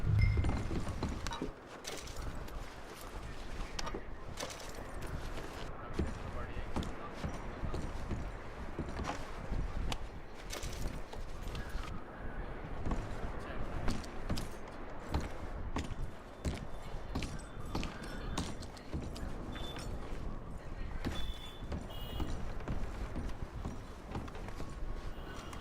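Horses walk in Red Dead Redemption 2, a steady stream of hoof clip-clops with creaking tack and jangling gear running throughout at moderate level, no one talking.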